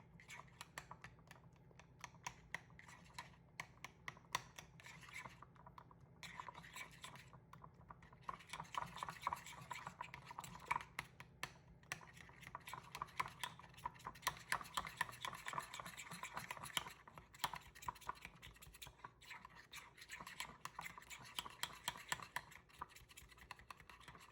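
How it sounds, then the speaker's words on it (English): Caramel brownie mix with walnuts stirred fast in a 9 by 13 inch pan, a faint, busy run of rapid scraping and tapping strokes that continues steadily throughout, with no talking. "you gotta stir it fast so the caramel and everything melts"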